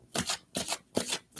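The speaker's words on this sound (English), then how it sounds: "I just wanted to shuffle my deck." A deck of tarot cards being shuffled by hand, four quick riffling bursts in an even rhythm, close and crisp, with no talking.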